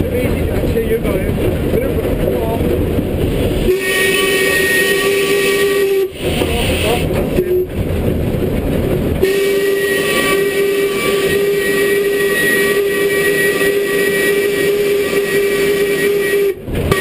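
A steam locomotive running on level track, with a steady loud hiss and rumble and a long sustained whistle blast that stops and resumes several times, near and continuous.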